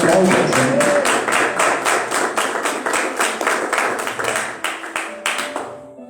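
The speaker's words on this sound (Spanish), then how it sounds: "Demos un aplauso al Señor." A church congregation claps together in a steady, brisk rhythm, loud and close, with a voice faintly underneath. The clapping gradually softens and thins out toward the end.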